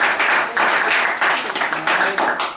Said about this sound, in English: Let's give a nice round of applause for everyone here.